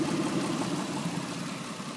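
A Mitsubishi Pajero 3.5 V6 DOHC with the 6G72 engine runs steadily, a close, continuous low rumble with an even broadband roar throughout.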